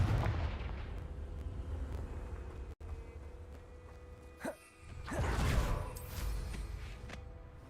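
Confringo explosive spell in the video game Hogwarts Legacy: a faint booming blast and whooshing bursts, with a sharp dropout and a swelling fiery rumble in the second half amid game ambience.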